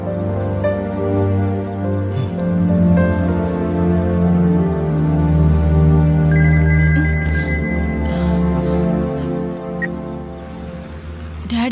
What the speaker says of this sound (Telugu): డాడీ కాల్ చేస్తున్నారు.